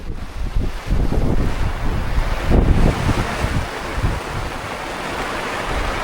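A squall at sea off Placencia sends loud, gusting wind buffeting the microphone aboard a sailboat, a continuous roar that swells and eases with no voices.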